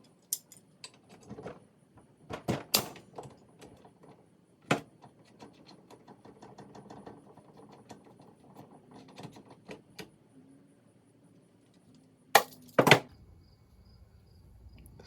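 A puller works the flywheel off a 2016 Suzuki RMZ250F dirt bike engine in a garage, giving sporadic metallic clicks and clanks with quiet gaps and a couple of sharp knocks near the end.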